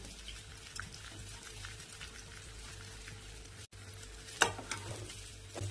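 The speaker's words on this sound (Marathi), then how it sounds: "हळूवार परतवून घे आपला मसाला बाहेर नको यायला" Soft sizzling and scraping in a pan as masala for stuffed brinjal is slowly stirred, fairly quiet, with one sharper clatter near the end.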